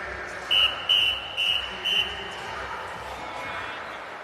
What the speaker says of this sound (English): that is the get ready whistle